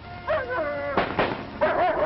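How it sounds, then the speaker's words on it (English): Army dogs bark and yelp in several sharp, agitated bursts, sounding frightened and angry, with howl-like tones between the barks, somewhat distant on an old narrow-band recording. "Pal and the others bark, frightened and angry, unable to understand why the trainers have turned on them."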